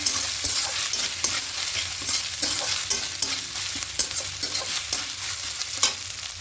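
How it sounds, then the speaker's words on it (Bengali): Grated coconut frying in a pan for a vegetarian taro-leaf ghonto, stirred with repeated rhythmic scraping strokes over a steady low sizzle, close and fairly quiet with no voices. "এখানে কিছুটা নারকেল কোড়া দিয়ে দেবো নারকেল কোড়া দিয়ে একটু হালকা নাড়াচাড়া করে নেবো"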